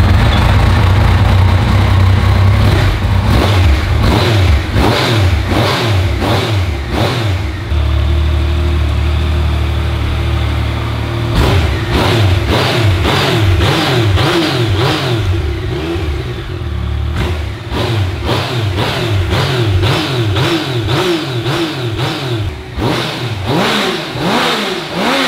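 Close, loud Yamaha XJ6 or MT-09 motorcycle engine repeatedly revved, pitch rising and falling in quick bursts, with a rumbling idle between throttle blips and a short pause midway.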